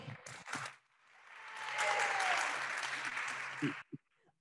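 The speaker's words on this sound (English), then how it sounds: "I'll get them to clap again." Audience at an academic keynote on ageing and cognition clapping again, a swelling burst of applause heard through a remote call, framed by brief speech before and after.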